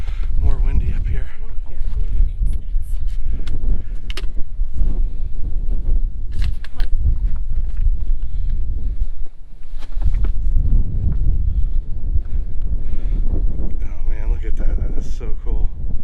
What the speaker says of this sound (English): it's definitely more windy up here